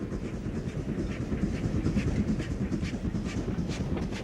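A Great Western Railway steam tank locomotive rumbles along the rails on a preserved Devon railway with a rhythmic clickety-clack, a steady low roar and regular wheel beats, heard fairly close without any speech.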